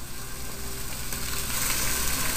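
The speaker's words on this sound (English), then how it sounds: "You want to hear that sizzle." Cubed pork chops and onion hit hot olive oil in a pot for Mexican stewed pork, a loud, dense, continuous sizzle that swells slightly toward the end, with no voices over it.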